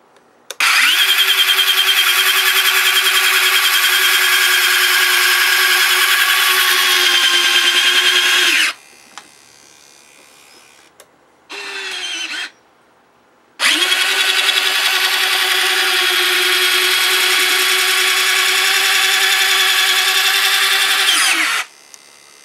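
An LX F/A-18 model's plastic landing-gear retract, with its beefy motor and shaft, whines in two long loud runs, a short buzz between them, then pauses and quiet gaps.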